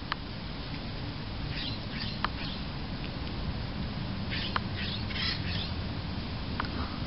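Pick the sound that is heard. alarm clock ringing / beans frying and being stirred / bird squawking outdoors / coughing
bird squawking outdoors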